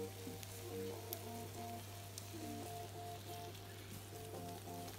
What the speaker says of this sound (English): Got them beautifully sizzling away.